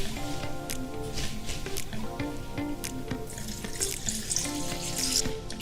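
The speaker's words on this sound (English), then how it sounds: "So we got some water here." Water pours steadily into a container for a chicken bake sauce, a continuous splashing trickle with faint clinks, fairly close and without talking.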